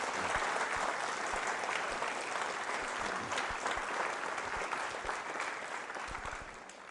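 A crowd applauds at a school quiz show to honour invited guests, sustained clapping from many hands that holds steady for several seconds and then gradually thins and softens near the end.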